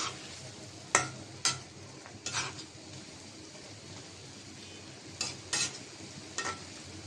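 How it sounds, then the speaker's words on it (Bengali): Mola fish cooking with onion and tomato is stirred in a pan, giving a few sharp scrapes and clinks of the spoon over a soft, steady sizzle, fairly quiet and without talk. "তো দিয়ে দিলাম মাছ, একটু হালকাভাবে নাড়াচাড়া দিয়ে দেই।"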